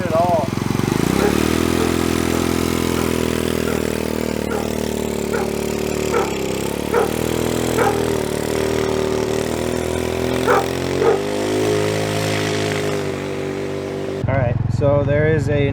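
A 50cc GY6 scooter fitted with new clutch springs makes test runs up and down a driveway, its small engine droning steadily with rising and falling revs, close by, with talking over parts of it.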